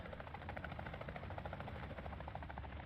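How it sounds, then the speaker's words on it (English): A helicopter hovers close overhead in Call of Duty DMZ, its rotor chopping in a fast steady pulse over a low engine rumble, faint and continuous. "This helicopter's going to deafen me"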